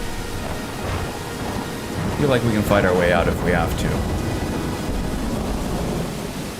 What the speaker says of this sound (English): It sounded like maybe lightning struck or something fairly close to here.